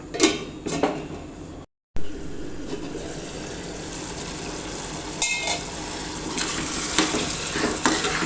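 A drumstick curry with salt is stirred in a pot, with scraping and clinks of a spoon against metal over a low bubbling sizzle, close by, with a brief silent gap early on.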